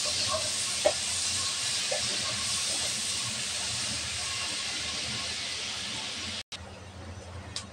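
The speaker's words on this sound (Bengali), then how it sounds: "পেঁয়াজটা ভালোভাবে ভেজে নেব।" Chopped onions with chopped green chilies fry in a pan, giving a steady, even hiss that runs throughout with a few faint clicks and a brief dropout near the end.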